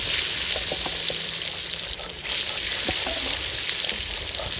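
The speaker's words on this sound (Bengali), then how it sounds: "মাছ ভাজা তেলেই কিন্তু এখন বেগুন ভাজবো।" Tender eggplant slices fry in oil already used for frying fish, giving a steady close sizzle with occasional small pops and stirring sounds.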